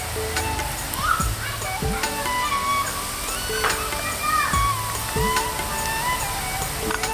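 Onions sizzle and fry in a pan for a goat intestine and bottle gourd curry, a steady hiss near the mic with occasional stirring scrapes while someone talks over it.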